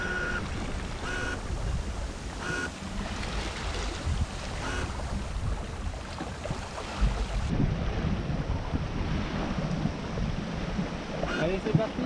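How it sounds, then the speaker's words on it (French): Strong wind of 15 to 20 knots rushes steadily past a small sailboat sailed solo under spinnaker, a continuous broadband roar with water noise, growing rougher toward the end. "le vent monte un petit peu"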